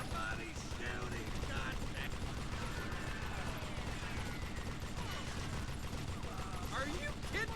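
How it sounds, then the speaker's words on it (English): Rapid gunfire in the video game Call of Juarez: Gunslinger, dense repeated shots and mechanical clatter running steadily throughout, with distant voices underneath. "Somebody's shooting"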